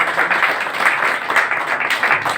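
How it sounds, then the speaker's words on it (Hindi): Loud, dense applause from a crowd, continuous and even throughout. "उनके लिए भी एक बार जोरदार तालियों से।"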